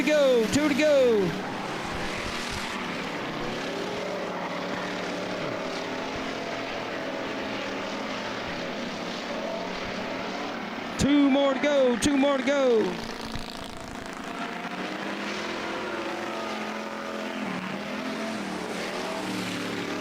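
Super late model race cars at Blackwater Speedway in Florida, a continuous roar of engines around the oval with cars sweeping past, louder at the start and near the middle, under a commentator's voice.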